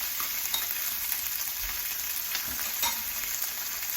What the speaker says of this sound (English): I'm going to take the beans that I have here drained, okay, and I'm going to throw them in the pan.